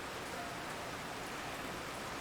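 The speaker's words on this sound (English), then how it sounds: "It's raining." Steady, even rain hiss in the video game Foundation, a soft continuous wash of falling water with no distinct drops, faint and alone.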